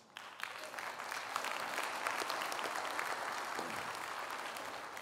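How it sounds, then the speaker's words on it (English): Church congregation at a sesquicentennial celebration service breaking into applause, rising quickly from quiet into a sustained, fairly distant wash of many hands clapping. "That wasn't a clapping moment."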